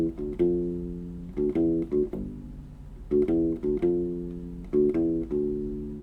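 U-Bass playing the opening bass line in 3/4, a repeating riff of short, warm, low plucked notes, close and moderately quiet, with no one speaking.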